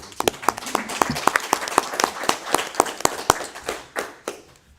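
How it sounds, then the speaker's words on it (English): Attendees at a city council meeting clap for a few seconds, a sparse round of sharp, distinct hand claps from a small group that thins out and fades toward the end. "I think we can clap for Charlie."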